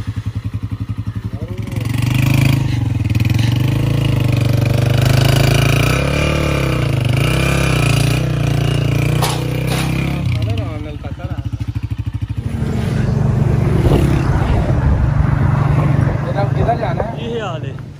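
Motorcycle engine running on a rural ride past silage fields, a close, steady rumbling putter that stays loud throughout while people talk over it.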